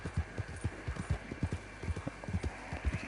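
A horse ridden along a trail: a steady, even rhythm of soft hoof clip-clops, close and moderately quiet, with no talk over it.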